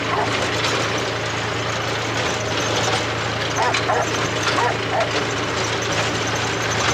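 A Rottweiler barks a few times in the middle distance over the steady rumble of an idling tractor engine, with faint voices in the background.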